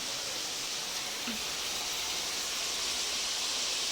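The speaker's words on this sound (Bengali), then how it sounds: "প্রচুর বৃষ্টি হচ্ছে বন্ধুরা" Heavy rain falling steadily outside during a downpour, a dense, even broadband hiss that stays constant and fairly loud throughout with no breaks or voices.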